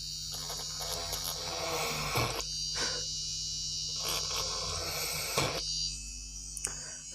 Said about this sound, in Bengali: সো দেখুন মোটরে পাওয়ার দিচ্ছি, খুব স্পিডে কিন্তু ঘুরছে।